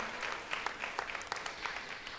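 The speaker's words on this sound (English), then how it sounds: "If we could just also give them a round of applause for all their hard work in putting on this event." Faint, scattered applause from an audience at a community festival, thanking event organizers; moderately distant clapping with a few sharper individual claps standing out over a soft, steady background.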